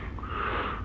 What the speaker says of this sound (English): He keeps breathing heavily